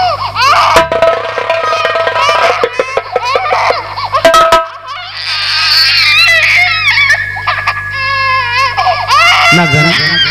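An infant cries and wails in a dense forest setting during a staged folk theatre performance, loud and close, with music and other voices mixed in; a performer may be imitating the cry.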